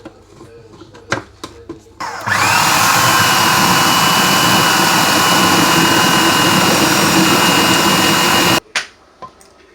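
Electric mixer beating four cups of flour and cocoa powder into chocolate cake batter, a loud steady whirring drone lasting several seconds, framed by a few clatters and knocks before and after.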